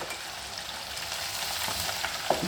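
Chicken frying steadily in hot oil until golden brown, a soft continuous sizzle and crackle with faint occasional stirring sounds, fairly quiet and even throughout.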